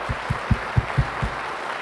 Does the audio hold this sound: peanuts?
no